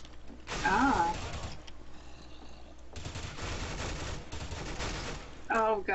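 M4A1 rifle fire in the video game Counter-Strike: Global Offensive on a zombies custom map, two dense rattling bursts, one short and one longer, with a voice talking briefly at the start and end.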